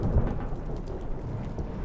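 A video game thunderstorm roars with heavy, steady rain and a deep rolling thunder rumble, loud and continuous with no voices.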